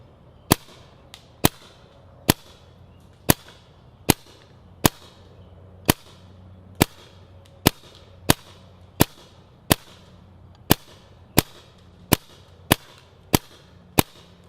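An Angel A4 paintball marker fires about eighteen sharp, loud shots through a chronograph at a quick, fairly even pace, each crack standing out cleanly against a quiet background.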